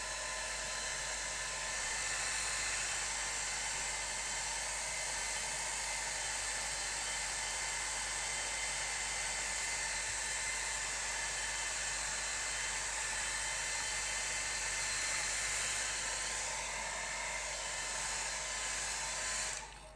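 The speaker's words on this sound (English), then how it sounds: "Let me get a quick blast with the hairdryer." A hairdryer blows steadily on a gouache painting of an autumn tree, giving a loud, even whir with a broad hiss that runs unbroken from start to finish.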